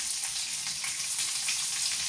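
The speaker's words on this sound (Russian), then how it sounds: "Переворачиваем котлетки" Buckwheat cutlets sizzling in a frying pan beside potatoes, a close, steady crackle of hot oil that stays even throughout with no voices.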